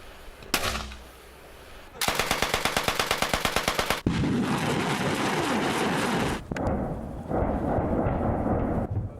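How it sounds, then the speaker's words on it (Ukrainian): Artillery and mortar salvos at the Nagorno-Karabakh line of contact on a Sunday morning: a lone thump, then a rapid, evenly spaced burst of about a dozen loud reports, followed by sustained heavy rumbling blasts that ease into a lower, distant roar. "Залпи артилерії та мінометів."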